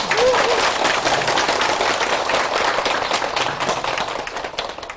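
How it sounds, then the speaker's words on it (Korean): An audience at a Buddhist college lecture at Bongeunsa temple applauds together, a dense, steady wash of many hands clapping that holds for about five seconds and eases slightly near the end. "자신을 위해서 박수 한번 칩시다."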